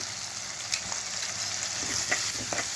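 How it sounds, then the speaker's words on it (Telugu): Green chillies and onions fry in a pan for a mealmaker mixed vegetable curry, giving a steady close hiss and crackle with a few soft stirring clinks over the sizzle. "పచ్చిమిరపకాయలు కానీ ఉల్లిపాయలు కానీ బాగా వేగిపోవాలి"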